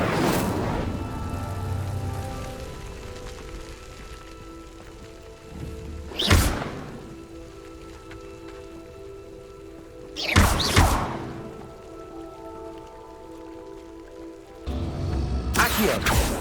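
In Hogwarts Legacy, Incendio fire spells light pyres in three loud, close bursts of whooshing flame, roughly four seconds apart, over a steady rumbling ambience.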